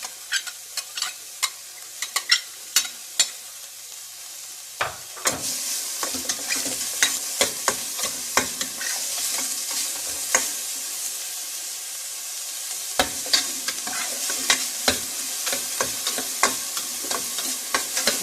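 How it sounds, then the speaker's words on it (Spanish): Onion and chili sautéing in oil on a stove: sharp spoon clacks against the pan at first, then a loud sizzle bursts in and hisses steadily, punctuated by repeated stirring knocks. "Ya prendimos la estufa y vamos a agregar la cebolla y el chile."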